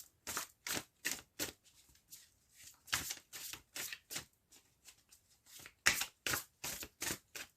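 Tarot cards being shuffled by hand, a quiet series of crisp riffling bursts in an irregular rhythm, close and alone without talk.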